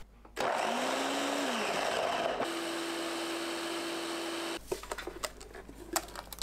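A blender grinds eggplant, garlic and onion, whirring loudly with a rising-then-falling motor pitch, then settling into a steady high whine before stopping, followed by faint clattering.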